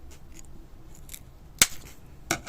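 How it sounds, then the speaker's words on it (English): Two sharp snips cut a small piece of wood from a homemade remote-control detonator fuse, with a quiet pause between the cuts and no speech. "If you want, you can cut that bit of wood off"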